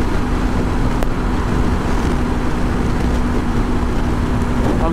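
A Honda CB500X 500cc motorcycle held at full throttle near top speed, fully loaded with a pillion, gives a loud continuous engine drone mixed with heavy wind roar, steady throughout with no talking.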